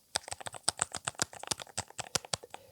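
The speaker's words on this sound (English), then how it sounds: "And I actually updated the switches to silent switches." Rapid typing on a split keyboard fitted with silent switches: a quick, irregular run of soft, muted key clicks and taps, close and alone with no talking.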